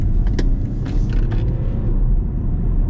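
BMW F80 M3 driving on the road, a steady loud low engine and road rumble throughout, with a few faint clicks and no talk.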